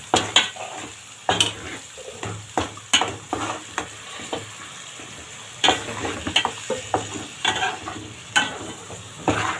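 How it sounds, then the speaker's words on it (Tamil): Vegetables sautéing in a pan with masala, a steady sizzle broken by repeated scraping and clattering strokes of a spoon stirring against the metal, close and fairly loud, with no talking. "இதையும் நல்லா வதக்கிக்கலாம்."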